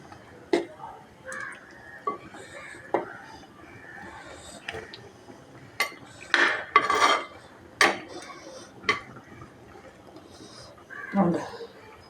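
Curry pieces stirred into gravy in a pan, with a utensil scraping and clinking against the pan in scattered, irregular strokes, close by, with speech in between.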